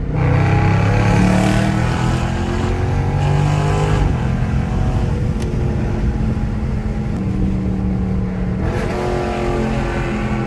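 A loud car engine revs hard in third gear and climbs steadily in pitch, roaring close by without pause, with the tone rising again after a brief dip.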